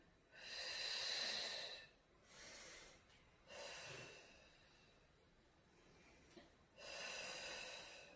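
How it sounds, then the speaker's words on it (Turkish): Deep, forceful breaths during a Pilates exercise come as four separate rushes of air, each a second or so long with quiet gaps between, close and breathy with a snorting edge. "Burada derin nefes alıyorum ve veriyorum."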